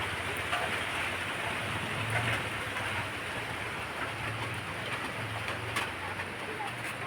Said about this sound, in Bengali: আর এই যে দেখো বৃষ্টি শুরু হয়ে গেছে